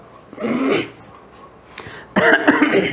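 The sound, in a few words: cough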